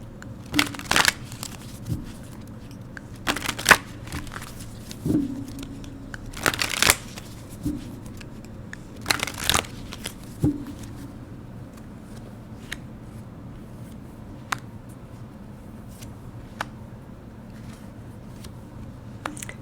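Tarot cards shuffled by hand during a four-card reading, a series of crisp riffling bursts up close, loudest early on and tapering to lighter taps and rustles toward the end.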